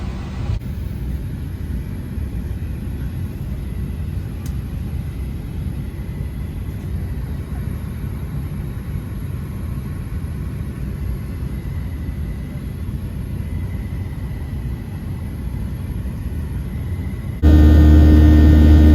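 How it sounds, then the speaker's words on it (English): Constant low roar of an airplane cabin on a flight leaving Nashville, a steady engine and air rumble with a thin high whine, unbroken throughout, ending in a louder hum. "We're on the plane now."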